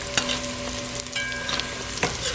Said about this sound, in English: So as you could see how long this is frying, and it did not burn